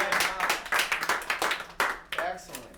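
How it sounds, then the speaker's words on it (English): Audience at a behind-the-scenes film presentation claps in a lively round of irregular hand claps, close and fairly loud, with voices mixed in. "A round of applause"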